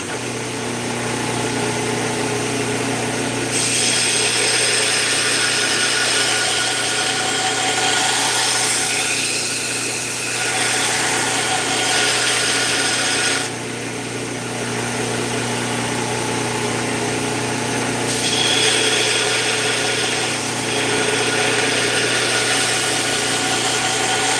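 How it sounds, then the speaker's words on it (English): A power grinder works a steel knife blade in a workshop, a loud, continuous buzzing whine with slight swells in intensity, running steadily throughout. "now start grinding the second knife"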